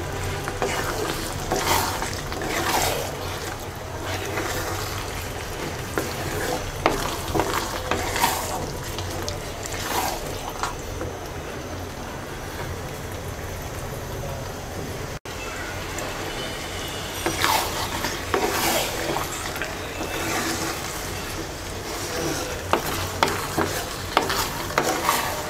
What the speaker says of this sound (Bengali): এবার মিডিয়াম লো হিটে কিছুক্ষণ পরপর নেড়ে নেড়ে 20 মিনিট পর্যন্ত রান্না করব।